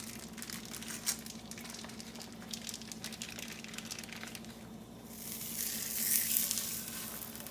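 Tilapia fillets and scallops hit a hot skillet on a stovetop at medium heat, giving a steady close sizzle with faint crackles that swells into a louder, brighter frying hiss near the end, with no talking.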